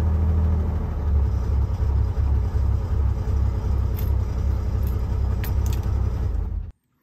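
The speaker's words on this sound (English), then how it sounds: "All right, so we've got the motor running and we've got the oil pressure up here to, looks like 70 PSI." A Volvo Penta AD41 marine diesel engine runs at a steady idle, a loud, close, continuous low rumble with faint metallic ticks, cutting off abruptly near the end.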